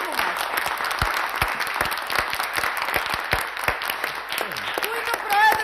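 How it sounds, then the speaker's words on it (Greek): Audience applause greets a club president at an event, a steady wash of many hands clapping for several seconds with a faint voice near the end. "Ένα χειροκρότημα για τον πρόεδρο του συλλόγου μας."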